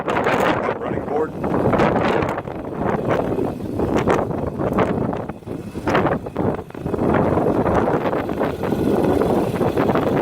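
Outdoor wind buffeting the microphone beside a 2012 Infiniti QX56 at a Tulsa car dealership, loud gusty rumbling that surges and dips throughout, with someone talking underneath.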